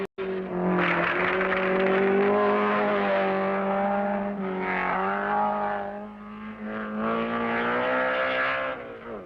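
A Ferrari GTO race car driven by Vaccarella laps the circuit, its engine roaring loudly and close with rising and falling pitch as it revs through gears, fading briefly mid-pass before surging again.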